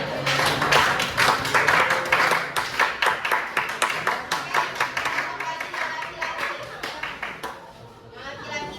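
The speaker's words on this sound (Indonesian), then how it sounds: "Beri tepuk tangan kepada laki-laki" Students in a religious education lesson clap for the boys in a classroom, a dense burst of many hands that thins into scattered, uneven claps and fades near the end, with some chatter underneath.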